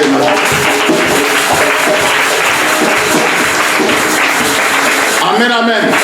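A church congregation applauds loudly and steadily in a dense, continuous wash of clapping and cheering, with a voice rising near the end.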